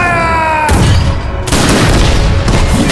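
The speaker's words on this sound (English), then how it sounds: "All cannons ready to fire!" Cannon fire in a period naval war sequence at sea: heavy booming blasts in quick succession, loud and reverberant, following a brief sustained tone at the start.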